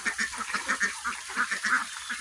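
Domestic ducks quacking near a farmyard pen, a rapid series of short nasal calls overlapping one another, close and fairly loud with no talk.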